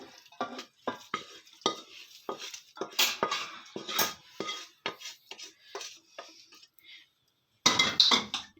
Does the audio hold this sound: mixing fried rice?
yes